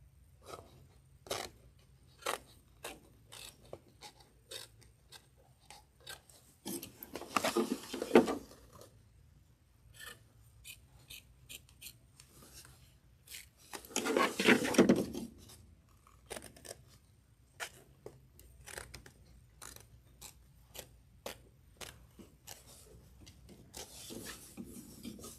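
Scissors snip fabric while trimming a quilt block, with a string of quiet, close crisp cuts and two longer rasping bursts of cutting or rubbing, set against a near-silent room.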